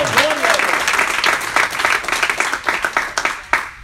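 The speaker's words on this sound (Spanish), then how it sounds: "Dele fuerte ese aplauso." A church congregation applauding loudly, a dense crowd of clapping that thins into a few scattered claps toward the end, with a voice speaking at the very start.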